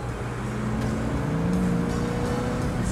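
An open-top classic sports car driving at The Pearl in Qatar, a steady loud engine hum with a rising tone as it accelerates, over constant road and wind noise.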